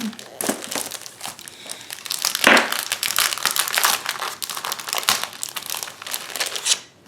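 Plastic wrapping crinkles and crackles as a 12 by 12 Cartabella scrapbook paper pack from a Club Echo Park kit is opened, close and continuous with sharper tearing bursts.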